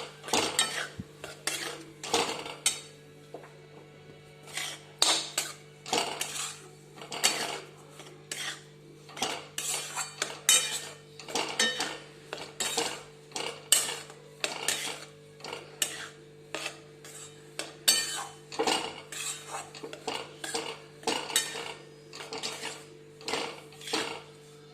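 Besan (gram flour) is stirred with ghee in a pan over low heat. A spoon scrapes and clinks against the metal in quick, regular strokes, with a faint steady hum underneath and no talking.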